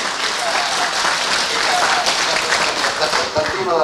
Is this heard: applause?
yes